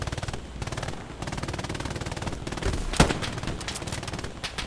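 Rapid machine-gun fire in the Hell Let Loose video game, a fast continuous rattle of shots with one sharp louder crack near the middle, steady and moderately loud, no talking.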